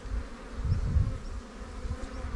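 Honey bees buzz around a hive that has swarmed, a close, steady low hum with no voices.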